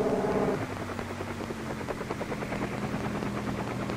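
A helicopter flying in a 1967 film, its rotor a continuous droning rumble with a faint rapid chop, holding steady throughout.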